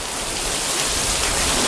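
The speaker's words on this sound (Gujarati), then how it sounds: "ધમાકેદાર એન્ટ્રી થઈ છે વરસાદની." Heavy rain pours down in a steady, loud, even roar of dense drops hitting surfaces, close by and without any voices.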